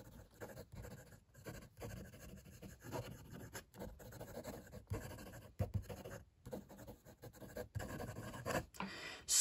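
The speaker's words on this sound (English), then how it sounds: "Quick writing." A Tianzi piston fountain pen races across paper in quick, scratchy strokes, short bursts broken by tiny pauses between words, close and clear with no speech.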